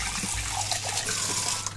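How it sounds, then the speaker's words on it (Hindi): Water pours steadily into a pressure cooker in a home kitchen, a close, continuous splashing and gurgling stream that fills the whole moment without any talk. "कुकर में डालो पानी।"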